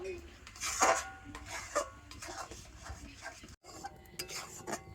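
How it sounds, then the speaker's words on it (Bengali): Raw mango pulp with whole sugar candy is stirred in a pan over low heat, giving scraping, rubbing strokes of a spoon against metal with soft clinks, close and moderately loud, with no talking. "এবার আমি একটু হালকা জাল দিয়ে তো এটাকে কন্টিনিউ নাড়াচাড়া করে ভালো করে ফুটিয়ে আর ঘন করে নেব"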